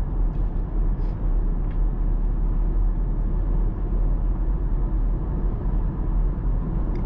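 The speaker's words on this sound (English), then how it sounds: "And now we are accelerating on the speed limit, which here is 100 km per hour." A 2024 BMW X2 M Sport accelerates up to 100 km/h, heard from inside the cabin as a steady, loud low rumble of engine and road noise that runs unbroken throughout.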